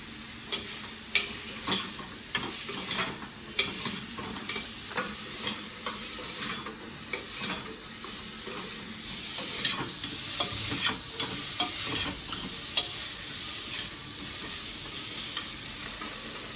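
Leafy greens frying in a pan while being stirred, close and continuous: soft sizzle under frequent scraping and tapping strokes of a spoon against the pan, fairly even in rhythm and with no voices.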